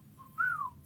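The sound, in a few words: person whistling imitating a droid bird call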